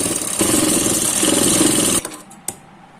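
A sewing machine stitches a one-piece katori blouse in a steady, loud mechanical whir for about two seconds, then stops abruptly, leaving a quiet room broken by a single sharp click.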